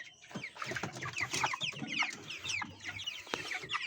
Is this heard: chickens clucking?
yes